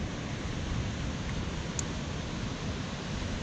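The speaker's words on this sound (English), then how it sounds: "there's a big giant waterfall over there" Broad, steady roar of a giant waterfall on the Mist Trail to Vernal and Nevada Falls in Yosemite, a continuous wash of rushing water heard from a distance with no voices.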